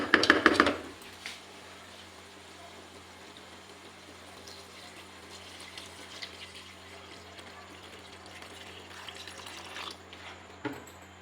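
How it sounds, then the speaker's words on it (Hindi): About a litre of water is poured into a pan of frying potatoes for an aloo chicken curry, starting with a loud splash and sizzle, then settling into a faint, steady bubbling hiss. "अब मैं इसमें पानी ऐड करूंगी।"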